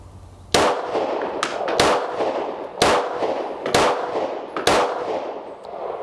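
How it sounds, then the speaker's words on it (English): Five loud, sharp gunshots from a Stoeger STR9c compact 9mm pistol crack out at an outdoor range, spaced about a second apart, each followed by a short echoing decay. "All I got to do is squeeze the trigger, and I'm going to go for center mass there. Let's do, we'll do 5 shots there real quick."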